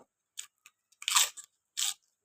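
Close, crisp crunching bites of chilled cabbage, a few loud snaps spread over two seconds with brief quiet gaps between them.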